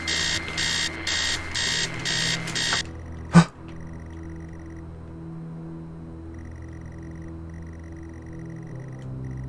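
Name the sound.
alarm ringing in video game Stories Untold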